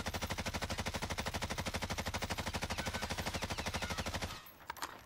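A Bruin machine gun with a standard 60-round magazine fires in Warzone: one long, steady full-auto burst of rapid, evenly spaced shots for about four seconds, then a sudden stop with a few faint clicks.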